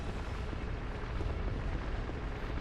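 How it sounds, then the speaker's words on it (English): A heavy old elevator in Dark Souls 2 grinds and rumbles continuously, a dense, low, rough roar with no pauses. "So that's the sound of the old elevator moving"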